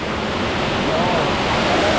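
Karumparai waterfall in Kanniyakumari pours in a steady, loud broadband rush of flowing water, constant and close, with a voice talking over it.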